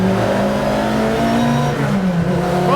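Ford Mk1 Twin Cam Escort continuation car revving hard, a loud, rasping four-cylinder note climbing and dipping in pitch across a short burst.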